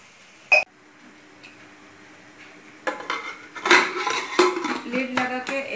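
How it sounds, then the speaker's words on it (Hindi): A lid goes onto a pressure cooker with pots and pans clattering. One sharp metallic clink sounds early on, followed after a quiet stretch by a busy run of close clanks and rattles of cookware. "लीड लगा के 1 सीटी के साथ स्टीम कर लेती हूँ।"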